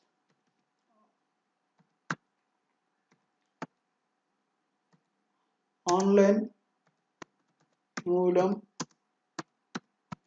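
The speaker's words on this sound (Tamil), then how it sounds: "ஸோ இப்போ வந்து நான் டைப் பண்ணுறேன் பாருங்கள்" Scattered, isolated clicks of keys on a computer keyboard are typed slowly at close range, with two short bursts of speech in between.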